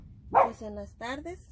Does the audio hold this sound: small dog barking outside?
yes